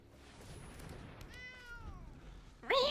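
A cat meows once, a clear drawn-out call rising and falling at moderate distance in a quiet room, followed by a sudden burst of louder noise at the end.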